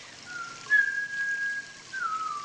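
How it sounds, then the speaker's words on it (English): A person whistles a few sustained, wavering notes, fairly quiet against a soft background hiss. "I'm just going to whistle."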